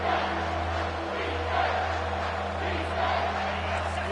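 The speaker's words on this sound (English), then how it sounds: "This crowd knows they have to bring it in big moments" A college football stadium crowd at an Ole Miss versus Alabama game roars in a steady, dense wash of distant cheering and noise that holds without a break.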